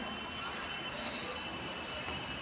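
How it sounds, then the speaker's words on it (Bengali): A Kolkata metro train in motion, heard from inside as a faint steady rumble and hum with a thin high tone running through it. "কিন্তু এই মেট্রো প্রথম ট্রাভেল করছি"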